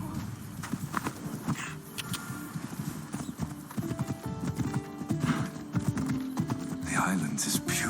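Horse hooves clip-clopping in a steady gallop-trot rhythm while riding on an island in Assassin's Creed Odyssey, close and clear beneath conversation between riders, with an occasional faint snort.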